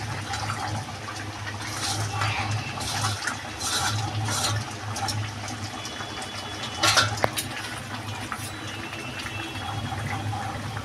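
Fried mola fish slid into a simmering pot of spinach and potato curry, with continuous close liquid bubbling and sloshing broken by a few brief splashes and stirring scrapes.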